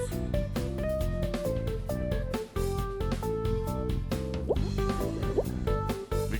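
Water drips and plops in a cleaning video game, with a few distinct drops landing over steady game music that runs throughout.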